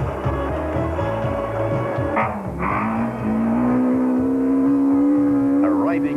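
A 1992 Volkswagen rally car engine pulls into a mountain trail rally service area, a loud steady drone with a rising revving tone partway through, up close and running continuously beneath a faint voice.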